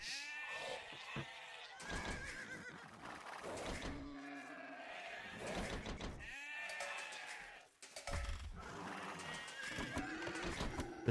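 Sheep bleat repeatedly in a real-time strategy game tournament match, several loud, close, wavering calls in a rhythmic run, mixed with horse neighs and hoof clip-clops, with no talking.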